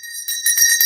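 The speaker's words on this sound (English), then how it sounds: "Where's my bell?" A hand bell rings in a short bright burst of tinkling strokes, close and fairly loud, with no voices over it.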